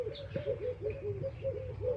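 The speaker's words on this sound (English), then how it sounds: "There's some doves, some frogs, some birds chirping, some cars in the distance." Outdoor dove calls repeat in a regular cooing pattern, close and clear, while small birds chirp faintly in the background over low ambient noise.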